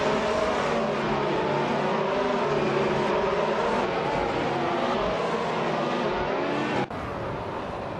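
Formula 1 race cars from the 2016 season in a racing video game at Circuit Paul Ricard, several engines roaring continuously and loudly together as the pack runs close, with a brief dip near the end.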